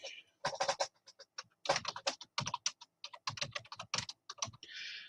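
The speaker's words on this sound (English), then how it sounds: "I was typing in the Google question" Someone types rapidly on a computer keyboard, close up, in irregular bursts of crisp clicking keystrokes separated by short pauses.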